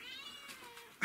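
Cats meowing in a short, thin, high cry, fairly faint, ending in a brief louder rustle.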